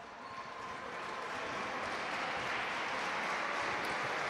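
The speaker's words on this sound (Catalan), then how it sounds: "Aplaudiments per a Javi Soler" Spectators at a men's basketball game between UPB Gandia and Calpe applaud steadily from across the gym, a broad, distant wash of clapping that swells gradually as a player substitution is made.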